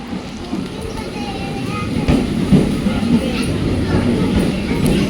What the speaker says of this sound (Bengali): দেখতে পাচ্ছ অলরেডি ট্রেন আসছে